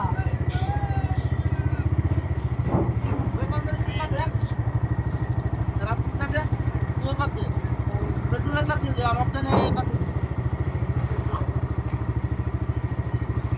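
A motorcycle is ridden along the road, its engine holding a steady, close, throbbing drone, with wind and a few voices talking over it.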